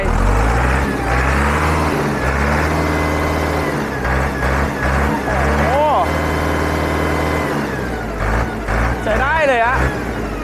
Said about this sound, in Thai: ต้องฟังกันใกล้ๆครับ ต้องเล่งเครื่องให้ดูหน่อยครับว่าเป็นยังไง